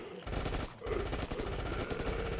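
Rapid automatic gunfire in the State of Survival mobile game, a dense, loud burst of rattling shots with a brief gap before it resumes without pause.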